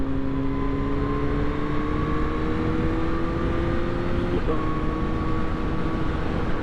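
A Kawasaki ZH2 SE motorcycle engine pulls hard under acceleration, its tone climbing steadily, dipping briefly at a gear change, then rising again, heard close over constant wind rush.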